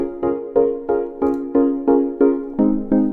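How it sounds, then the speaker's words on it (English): A soft synth bell tone pulses in a steady repeating rhythm, each chime swelling and decaying evenly, about three per second. "I found this random bell pad, tweaked it a little bit"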